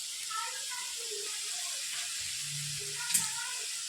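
Pizza sauce with chilli flakes, sugar and tomato ketchup sizzling in a pan, a soft steady hiss with faint bubbling, close and fairly quiet, with a short knock near the end.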